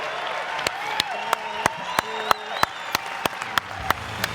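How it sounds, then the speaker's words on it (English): A small audience applauds after a speaker's closing remarks, sparse individual claps ringing out at a fairly steady rhythm over a quiet room, some louder claps standing out close to the microphone. "can we please give them a round of applause and tell them how much we appreciate their efforts?"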